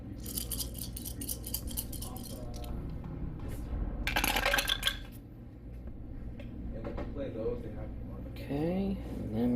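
Red and blue dice for the Star Wars Armada tabletop game rattle in a couple of short clattering bursts, close by. Someone talks quietly between and around the rolls.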